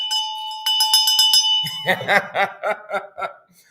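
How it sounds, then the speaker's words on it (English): A bell rings in a quick series of bright, sustained metallic strikes, close and loud, then gives way to an announcer speaking with energy at a ring-style political show. "I love this bell"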